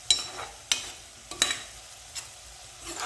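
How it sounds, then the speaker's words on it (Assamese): Dorun greens being stir-fried in a pan, with several sharp utensil scrapes and knocks at uneven intervals over a faint, soft sizzle, and no talking. "দুৰুণ শাকখিনি মই ভাজি আছোঁ।"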